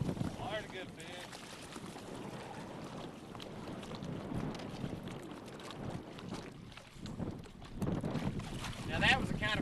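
Strong wind of about 30 miles an hour gusts over a lake during bass fishing, a steady rough roar with microphone buffeting that swells louder near the end, mixed with water and boat noise and a voice talking.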